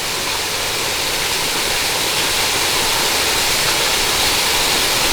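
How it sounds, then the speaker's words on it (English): Waterfalls at Dutchman Lake in the Shawnee National Forest pour in a steady, broadband rush of falling water, loud and continuous throughout with no voices. "Nice waterfalls."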